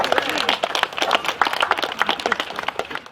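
A community audience at a wildlife gardens program celebration claps together, a dense burst of many hands close by that thins and fades toward the end.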